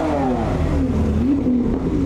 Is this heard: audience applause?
no